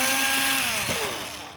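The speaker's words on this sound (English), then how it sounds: "We're going to about an inch over and then drill a hole." A power drill boring a hole for a traveling brooder, a loud close whining buzz that dips in pitch partway through as it bites in, with no talk.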